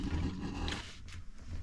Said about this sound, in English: That sound was the water passing through the non-return valve.